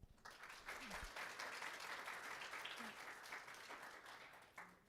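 Audience applause welcomes a speaker at an academic lecture on climate ethics, a sustained, fairly distant round of clapping from a crowd that fades at the end.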